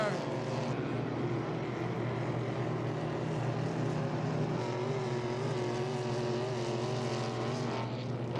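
A 5-litre racing boat engine drones over a steady broadband roar, with the pitch shifting slightly as it passes, held at a constant distance under a commentator's voice, during a heat at Beauharnois.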